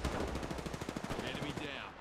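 Rapid automatic gunfire in Apex Legends, a dense burst of close, loud shots rattling in a steady rhythm for about two seconds.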